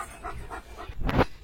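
Leo the dog panting after a run, quick rhythmic breaths close by in a short burst, growing louder toward the end.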